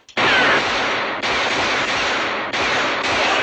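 Gunfire blasting at a door on a submarine television drama, sustained loud bursts of noisy automatic fire in three or four long stretches with brief breaks between them.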